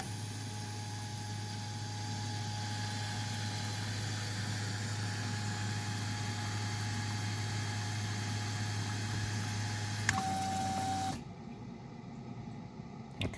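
OEM and Chinese replacement LS3/LS7 fuel injectors run a ten-second flow test at 4 bar on a test bench, a steady mechanical buzz and hum that holds for about ten seconds, then cuts off to a quieter background.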